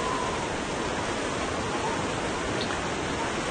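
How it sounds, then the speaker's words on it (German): A forest waterfall in The Long Dark gives off a constant broad rush of churning water, unbroken and fairly loud, with no talking over it. "Ein Wasserfall."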